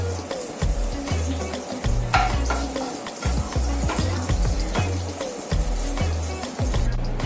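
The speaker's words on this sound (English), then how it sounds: "we'll add fenugreek seeds or methi seeds and allow it to splutter" Fenugreek seeds spluttering in hot oil, a dense close crackle of rapid pops and sizzling over a steady low hum, continuous and fairly loud throughout.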